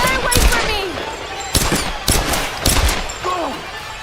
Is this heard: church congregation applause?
no